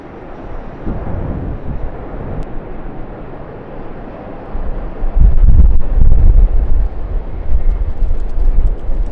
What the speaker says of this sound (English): Jetstar Airbus A321-200 will be the next to land, coming in on runway 25 here at Sydney.